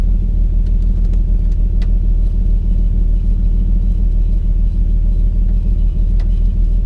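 A 1966 Plymouth Valiant's engine runs steadily, a loud, close, low rumble holding even throughout with no voices.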